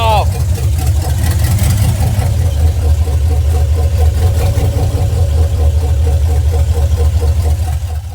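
An LS-swapped G30 van's V8 keeps running with the key off, a loud, close, steady low idle rumble that never dies down.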